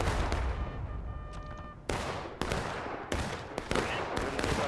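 Musket volleys in the Civil War game War of Rights: several sharp, loud gunshots crack out one after another with irregular gaps, each ringing into a reverberant tail, amid a noisy battlefield backdrop.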